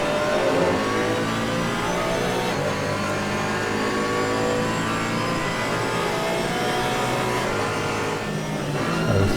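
Porsche and BMW race cars battle at the Paul Ricard circuit, their engines roaring loudly and steadily under hard acceleration as they run close together through the lap.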